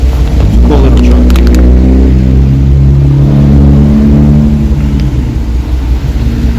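A restored 1949 Chevrolet 3100 custom truck revs up close, its exhaust rising into a loud throaty drone that holds and then eases back toward a low rumble, with no voices over it.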